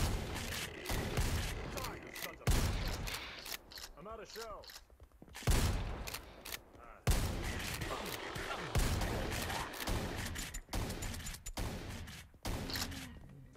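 Shotgun blasts in a horror adventure game, several loud sharp bursts separated by pauses, with a voice talking in between and some mechanical clatter.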